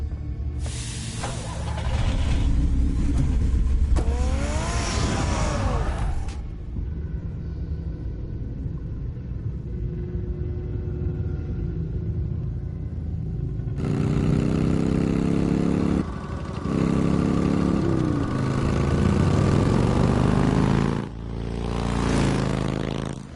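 Batmobile engine from a Batman Telltale game rumbling at a steady mid-pitched drone, loud and close, with swelling revving passages and brief cut-ins of louder engine surges.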